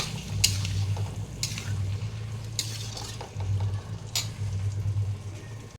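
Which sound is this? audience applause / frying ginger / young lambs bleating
frying ginger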